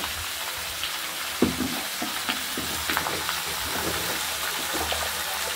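Mixed vegetables seasoned with salt and turmeric being stirred in a hot pan: a steady moderate sizzle under repeated scraping and clattering stirring strokes, with no talking.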